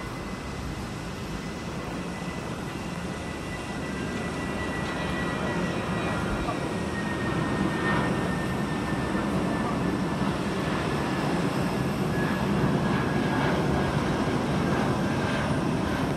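A Eurowings airliner departs London Heathrow for Hamburg, its jet engines producing a steady, distant broadband roar that swells slightly and holds, with a faint engine whine and some voices speaking quietly underneath.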